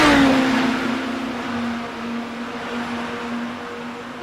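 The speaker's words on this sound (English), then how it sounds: "the car sounds are a bit high" A racing car engine drones at high pitch, starting loud and easing into a steady sustained whine, like a distant game car.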